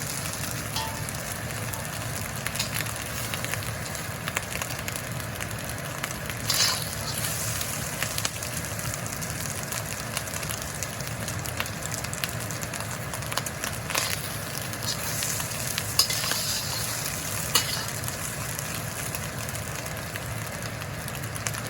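Crab and Chinese sausage egg fried rice frying in a pan, with a soft continuous crackle and sizzle and occasional faint clicks, fairly quiet and with no talking.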